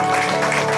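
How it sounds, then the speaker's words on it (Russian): Wedding guests at an outdoor ceremony in a restaurant applaud, a dense, steady wash of clapping that fills the whole short moment at close range. "Давайте поддержим аплодисментами."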